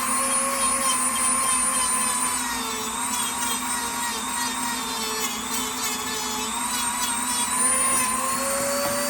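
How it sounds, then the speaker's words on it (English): Dremel rotary tool grinding a knife blade during a restoration, a continuous high-pitched whine with a steady buzzing tone held close and loud for the whole stretch, no voices. "I'm going to have to do a little bit of the Dremel."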